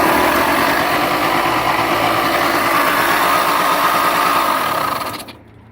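A small engine on a 1983 Lawnboy 8240AE bike runs with a loud, steady high-pitched buzz close by, then cuts off abruptly near the end.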